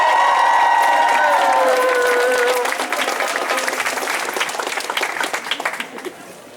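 A crowd at a graduate student and teaching assistant rally at UC Davis applauds and cheers loudly, a dense wash of clapping with whoops that gradually thins and fades over several seconds.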